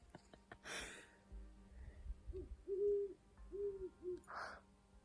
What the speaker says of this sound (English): we hear so many owls